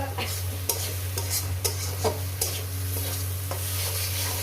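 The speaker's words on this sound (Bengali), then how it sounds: "ছ মিনিট ধরে আমি শাকটাকে ভেজে নিয়েছি" Water spinach greens frying in a pan, a steady low sizzle with a spatula stirring and scraping the pan every half second or so, close up and without talk.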